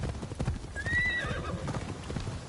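A horse in Assassin's Creed Shadows trots with a steady clip-clop of hooves while letting out a high, wavering neigh in the middle of the run.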